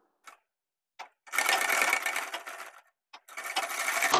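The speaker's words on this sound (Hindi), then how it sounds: "तो इसमें जो हम सिलाई लगाएंगे वो लफ्ट की सिलाई लगाएंगे।" A sewing machine stitches fabric for pant-cut palazzo trousers, heard as two brief taps, then a sustained close whirring run, a short pause and a second run.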